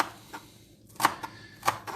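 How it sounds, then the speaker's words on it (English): Fresh coriander, stalks included, being chopped with a knife in a kitchen: a few sparse, separate knife strikes on a board, fairly close and quiet, with pauses between them. "when you're doing a fresh coriander and chopping it, make sure you use the stalks"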